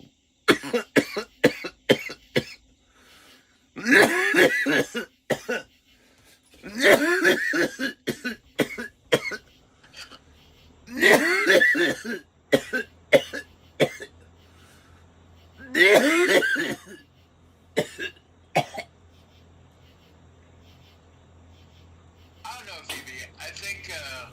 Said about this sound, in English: I think you need to look into that cough.